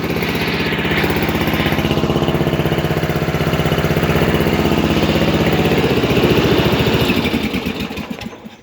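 A Murray 12.5 hp ride-on lawn mower engine runs loudly and steadily up close with a rough, pulsing drone, then slows and winds down at the end.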